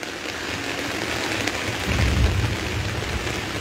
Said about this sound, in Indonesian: Hujan lebat masih tak henti lagi.